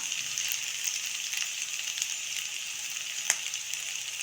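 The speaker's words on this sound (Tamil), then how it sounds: "வெஜிடபிள்ஸ் ஒரு நல்ல செவன்ட்டி ஃபைவ் பர்சன்ட் பாருங்கள் நல்லா எண்ணெயிலேயே வதங்கி வதங்கி வதங்கி நல்லா வெந்திருக்கு" Vegetables for a kurma sauté in hot oil with a steady, even sizzle, with a single sharp crackle partway through. No voices.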